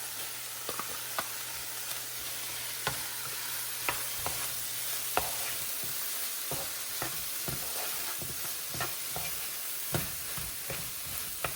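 Shrimp, vegetables and brown rice being stirred together in a hot pan for shrimp fried rice, with steady sizzling broken by repeated sharp scrapes and clacks of a utensil against the pan.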